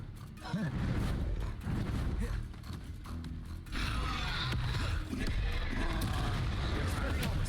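A Bombarda spell explosion in the Hogwarts Legacy video game, a loud booming blast followed by continuous rumbling game noise and crackle, with a voice talking over it.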